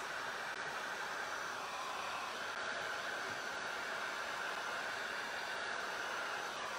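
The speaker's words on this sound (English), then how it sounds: "Okay, I'm just gonna use my heat gun. Heat it back up." A heat gun blows steadily to reheat paint and the glue beneath it on a painted piece of furniture, giving a continuous, even hiss of rushing air that holds at one level throughout with no talking.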